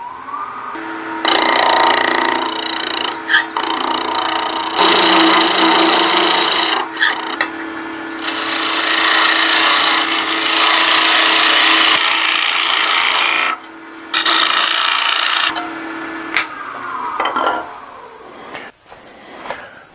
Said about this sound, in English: I'm going to bring this down to round with my skew chisel that I was using before.